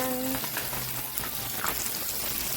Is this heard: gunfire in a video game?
no